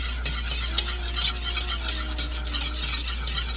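Flour and dried mustard cook in a pan while a utensil stirs steadily through the mixture, giving a soft continuous sizzle with scraping strokes, close and alone without talk.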